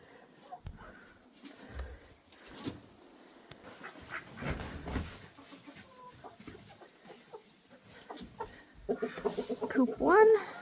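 Chickens clucking inside a chicken coop during a blizzard, scattered close clucks and squawks through the whole stretch, growing busier and louder toward the end, with some talk mixed in.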